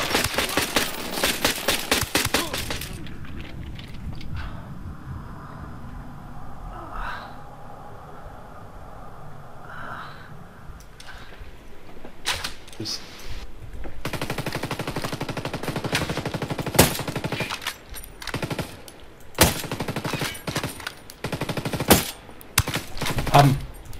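Gunfire in the tactical shooter Ghost Recon Wildlands: rapid automatic bursts up front, a quieter lull with scattered distant shots, then repeated loud sharp volleys and single cracks toward the end.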